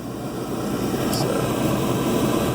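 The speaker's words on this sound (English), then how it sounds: "my blower motor just turned on" An oil furnace with a Beckett burner has its blower motor running as a loud, steady broadband whoosh and hum close by, a voice faintly present over it.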